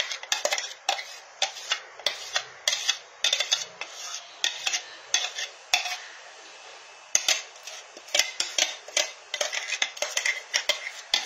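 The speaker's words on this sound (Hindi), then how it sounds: "गैस की फ्लेम ऑन करके मैं इसमें ये मिक्सर ऐड कर रही हूँ।" Mixture being added to and stirred in a pan on a gas stove: repeated close metallic scrapes and clinks of a utensil against the pan in a fairly regular rhythm, with no talking.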